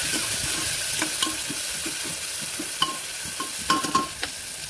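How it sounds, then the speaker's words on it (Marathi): Tomatoes are stirred into onions frying in a pan, a soft sizzle underlying repeated scraping and clacking of the spoon, with a few sharper knocks near the end. "त्यानंतर यामध्ये टोमॅटो, चांगलं मिक्स करायचं आहे."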